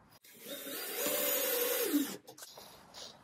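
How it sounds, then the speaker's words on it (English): A power drill drives a screw through 3/4-inch plywood while a wall pegboard is being mounted, with a steady mid-pitched whine that builds, holds for about a second, then cuts off with a few light clicks afterward. "I'm actually drilling through 3/4 plywood"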